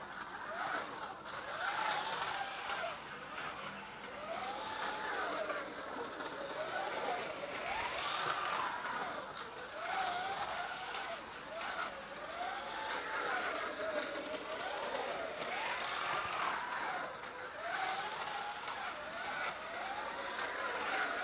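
A small Fiat Punto RC car runs laps on a track, its electric motor whining in repeated rising and falling sweeps for about twenty seconds at moderate distance, over steady background noise.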